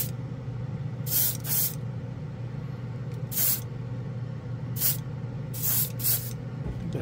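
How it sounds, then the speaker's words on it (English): An airbrush sprays Jumpwind pearl glaze paint in several short hissing bursts, about one to two seconds each, over a steady low background hum. "this airbrush really does"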